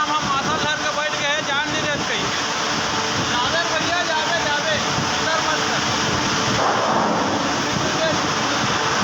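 Rain pours steadily outdoors in a constant dense hiss with wind rushing through it, loud and unbroken, while voices talk faintly underneath.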